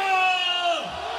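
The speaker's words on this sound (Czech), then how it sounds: "Na pokřik hurá se odpovídá sborovým sláva." A party crowd at a 50th birthday celebration in a club shouts a cheer together in chorus, one loud sustained massed voice close at hand.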